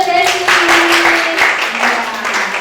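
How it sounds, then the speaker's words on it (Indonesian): A classroom of students claps for a classmate, a close, lively patter of many hands lasting a couple of seconds, with a voice speaking over it. "Tepuk tangan dulu untuk Desi."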